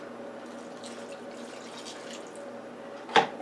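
Liquid pours gently onto bread crumbs for traditional Thanksgiving stuffing, a soft, faint, continuous trickle ending in a brief louder splash or clink.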